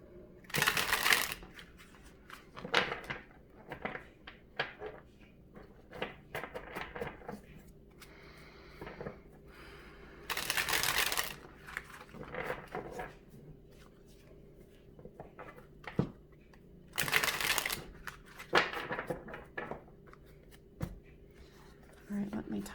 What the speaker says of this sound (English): Let me shuffle these before I move on to Leo.